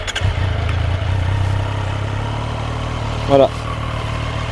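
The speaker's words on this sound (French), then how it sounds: "c'est parti pour le démarrage de la bête. Alors chez Triomphe, embrayage tiré et je peux tout simplement démarrer." A Triumph Street Triple 765 RS motorcycle engine cranks and catches with a short burst, then settles into a steady, close idle; a brief throttle blip rises near the end, and a voice speaks briefly over it.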